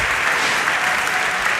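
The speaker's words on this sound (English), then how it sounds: "a big round of applause there for Max as he finishes his last solve" An audience at the Rubik's Cube World Championship finals applauds a competitor's last solve, a dense, steady wash of clapping filling the hall, loud and continuous throughout with no pauses.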